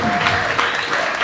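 A crowd at a pesantren celebration of National Santri Day claps for a fellow member, giving brief, dense, steady applause that fills the moment.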